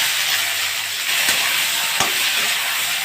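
Long thin black eggplants fry in a deep layer of hot oil, giving a loud continuous sizzle broken by two brief knocks of a stirring utensil.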